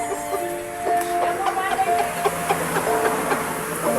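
A high caliber gray gamefowl clucks in a run of short, moderately loud calls, with a faint background hum behind them.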